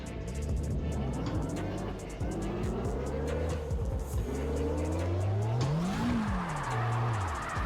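A race car in a sim racing game spins out, its engine revving and whining as tires squeal, with pitch swooping up and down through the slide, loud and continuous and mixed with game sounds.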